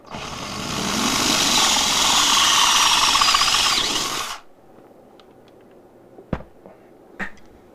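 A power drill bores a hole with a bit just over 3/8 inch, whining loud and close for about four seconds before stopping abruptly, followed by a few sharp clicks and knocks in quiet.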